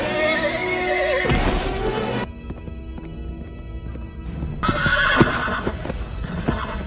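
A horse neighs loudly, then its hooves clip-clop in a steady rhythm, close and clear over a faint background, with no talking.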